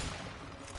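Faint bursts of gunfire from the co-op video game A Way Out form a dull, continuous rattle of shots, low in level, with no talk over it.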